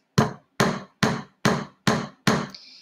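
Nails being hammered in a DIY craft project, five crisp, evenly spaced strikes close up, each ringing briefly, followed by a faint high tone after the last blow, with no voices.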